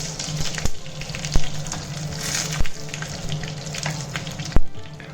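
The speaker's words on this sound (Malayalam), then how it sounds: "കടുക് ഇട്ട് കടുക് പൊട്ടി കഴിയുമ്പോഴത്തേക്കും കുറച്ചധികം വറമുളകിട്ട്" Mustard seeds and dried red chillies frying in hot oil for a Kerala tapioca dish, a loud close sizzle with sharp scattered pops from the seeds bursting, no speech.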